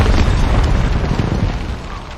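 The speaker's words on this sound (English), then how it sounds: "an explosion?" A deep, rumbling boom from an explosion in The Last of Us HBO series, heavy low-end roar that slowly decays over a couple of seconds, with no speech.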